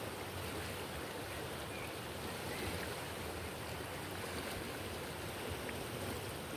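A swollen river near the Honduran border rushes past in a constant, loud broadband roar of flowing water, steady and unbroken throughout with no voices.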